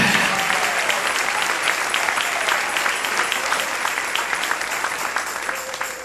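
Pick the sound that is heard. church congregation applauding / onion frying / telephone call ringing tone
church congregation applauding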